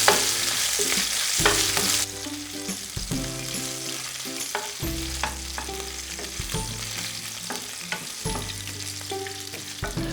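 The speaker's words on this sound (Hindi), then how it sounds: "तो अब हमारा जो मिर्ची और अदरक है वो सौते हो गए हैं।" Chopped green chilies and a finely cut inch of ginger sauté in hot oil, a steady close sizzle with occasional stirring scrapes, running under background music with no talking.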